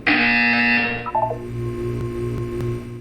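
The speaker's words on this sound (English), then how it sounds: "You will hear a buzzer." A harsh electronic buzzer blares loudly in Portal 2, holding about a second before cutting off into a short falling tonal blip, then a quiet hum.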